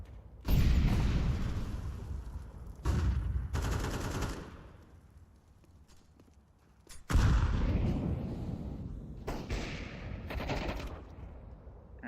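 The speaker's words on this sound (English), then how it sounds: "Let's throw in the flashbang." Gunfire and a loud flashbang burst ring out in Counter-Strike 2, with heavy bursts separated by quieter gaps and a strong blast near the middle, all close and loud.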